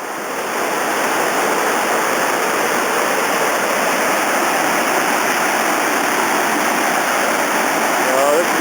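Robson River rapids in British Columbia rush steadily over a drop of roughly nine feet, a dense, continuous roar of whitewater heard up close with no breaks throughout.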